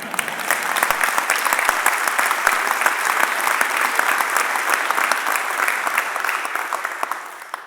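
A large audience applauds steadily at a university address, a dense, even wash of clapping that holds without a break and without any voices.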